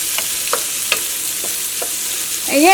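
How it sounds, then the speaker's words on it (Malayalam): Onions sautéing in a pan for a cherupayar (green gram) curry: a close, steady sizzle with a spatula scraping at regular intervals, and a brief squeak near the end. "ഈ സവോള ആയിരുന്നാലും നന്നായിട്ട് മുരിങ്ങണം കേട്ടോ."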